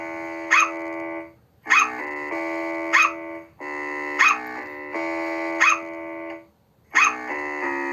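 Synthetic dog-bark bricks from the Sprunki music game pop out in a repeating rhythmic loop, each sharp yelp riding over sustained tonal notes, loud and clean with no talk.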